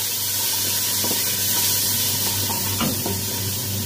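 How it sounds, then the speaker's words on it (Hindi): Half a cup of water poured into golden fried onion and spice masala for fish karahi, a steady loud sizzle and bubbling hiss with faint stirring clinks throughout, no voices. "इसमें डाल देंगे आधा कप पानी।"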